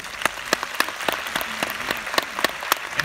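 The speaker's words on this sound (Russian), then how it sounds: "Ребята, аплодисменты вам." An audience at a forum claps in brief, scattered applause, the individual claps distinct and fairly close, sparse enough to pick out single hands rather than a dense roar.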